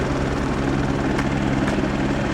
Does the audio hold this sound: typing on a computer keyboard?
no